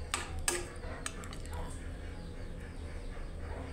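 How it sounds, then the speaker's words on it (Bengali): Pigeon meat curry in a pot being stirred, with a few sharp spoon-on-metal clinks early on and then a soft, steady scraping and simmering bed that continues to the end. "এই যে দেখেন এবার আমরা এটা মিশিয়ে নেব নাড়াচাড়া করে"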